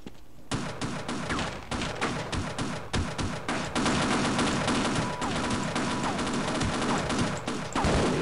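The player's gun firing in Half-Life: dense, continuous rapid shots and impact crashes, loud and close, running almost the whole stretch with barely any talk.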